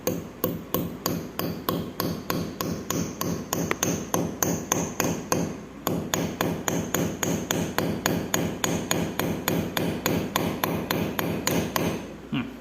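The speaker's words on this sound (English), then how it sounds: "you can just use a hammer and just keep hitting it in as much as you can" Steady, rapid hammer blows driving something into a wall, dozens of sharp knocks in a regular rhythm with a brief pause midway, close and fairly loud.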